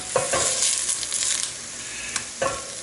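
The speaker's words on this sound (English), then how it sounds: "I'm going to stir them to coat them with the butter" Onions stirred in butter in a pot make a soft, continuous sizzle, with a few sharper scraping clicks of the spoon against the pot throughout, close up and without talk.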